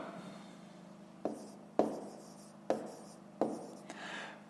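Hand writing of a math answer on paper, heard as close pen scratching broken by four distinct taps, alone without voices.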